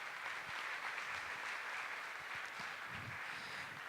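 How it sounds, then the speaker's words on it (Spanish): An audience at a panel discussion claps steadily for several seconds, a dense, even patter of applause heard from a little distance. "pido nuevamente un aplauso por sus aportes en esta tarde"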